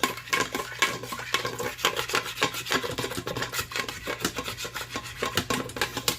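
A utensil scrapes browned bits off the bottom of a pan after cooking stuffed chicken, making repeated rhythmic rasping strokes that are close and fairly loud, with no talking.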